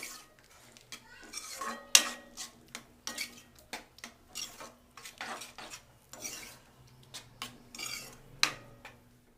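Dal masala curry mixture stirred in a pan, a steady run of close metallic spoon scrapes and clinks against the pan, repeated at an uneven rhythm with no talking.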